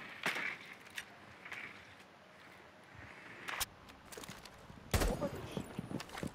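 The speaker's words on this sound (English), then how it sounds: "What are they shooting at?" Gunfire in Rainbow Six Siege, heard as a few sharp, fairly faint shots scattered over a quiet, low background, with the clearest bursts near the end.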